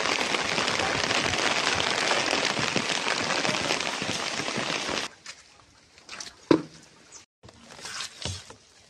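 Steady, dense rain falls close by for about five seconds, then stops abruptly, leaving scattered drips and taps.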